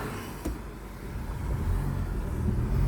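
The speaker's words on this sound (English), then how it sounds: "I'm getting a gap in the traffic." Cars passing on a busy road, a steady low rumble of traffic that swells gradually as vehicles approach nearby.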